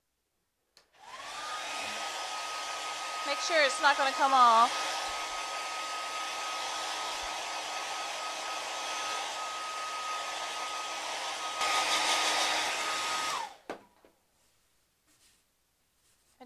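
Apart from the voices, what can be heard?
hair dryer blowing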